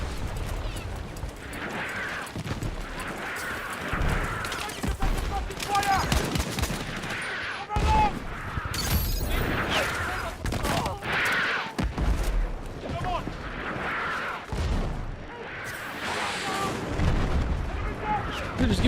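M39 EMR marksman rifle fire in a first-person shooter, repeated sharp shots and explosions in dense game combat, with a player talking over much of it.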